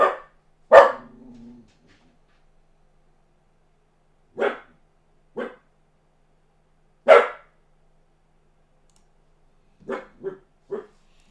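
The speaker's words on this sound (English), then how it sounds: "Got Maxi barking, got all kinds of stuff going on over here." A dog barks in scattered single woofs across a quiet room, with longer gaps, then a quick run of three barks near the end.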